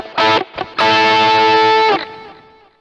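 A heavily distorted electric guitar, an LA-240KK with EMG pickups through a BOSS GT-1, plays a short riff, then holds a sustained chord ringing out with reverb and delay trailing off into a fading tail.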